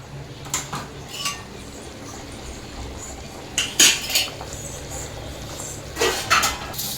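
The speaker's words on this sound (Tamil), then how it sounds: "பிரியா களி கிண்ட போகிறாங்க" Kali, a Tamil millet porridge, stirred in a pot, giving close, intermittent metallic scrapes and clinks of a utensil against the vessel in short bursts with quieter gaps between.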